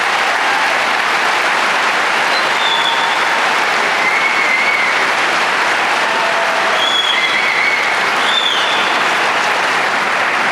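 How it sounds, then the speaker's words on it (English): A large audience at a high school graduation commencement ceremony claps steadily and loudly for the full stretch, a dense, unbroken wash of applause with a few faint whistles or cheers rising above it. "Please give them a round of applause."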